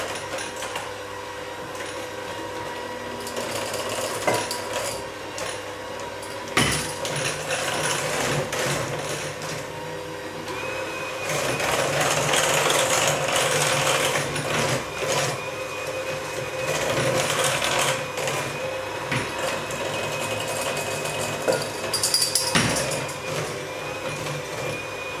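An electric mixer runs on low speed, blending dry ingredients into a pumpkin cheesecake snickerdoodle dough, a steady close mechanical whir that continues alone for about twenty-five seconds and swells slightly in the middle.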